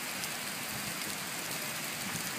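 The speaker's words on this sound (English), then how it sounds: "Now it's raining." Steady rain patters densely on a surface after a brief hailstorm, a continuous soft hiss with no voices.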